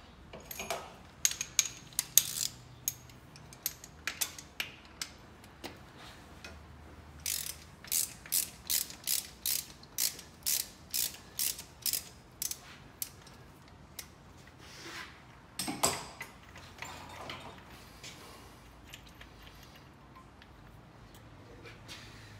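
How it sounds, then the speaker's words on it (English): A ratchet loosens a spark plug on a 1964 Chevy Nova, heard up close as quiet bursts of rapid clicking in short strokes, then a long run of evenly spaced clicks, with pauses between. "I'm going to go ahead and pull one of the spark plugs out and take a look at that as well"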